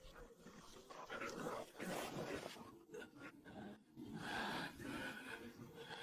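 A fierce animated dog snarls and pants in a dense, noisy scuffle, with rough growling, gasping breaths and whimpering bursts running continuously at close range throughout, no talk over it.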